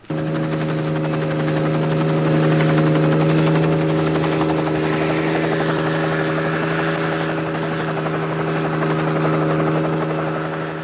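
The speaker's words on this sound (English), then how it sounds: "The helicopter will come out from Derry to lift them above the hedgerows" A helicopter comes in to lift sacks during bomb disposal work, its loud, steady rotor drone with strong tonal hum filling the whole stretch without pause.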